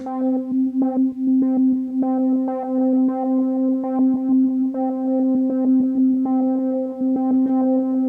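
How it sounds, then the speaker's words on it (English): Sustained Roland SH-4d synth drone with a steady low tone and layered harmonic notes, repeating in rhythmic pulses with delay echoes that give it a percussive edge, playing alone throughout. "Bring back in the delay"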